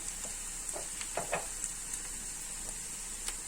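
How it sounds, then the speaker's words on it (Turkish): Ground red pepper and black pepper are stirred in a hot pan, giving a faint continuous sizzle with soft scraping stirs and small pops at irregular intervals. "yarım çay kaşığı da karabiber ilave edip karıştırıyorum"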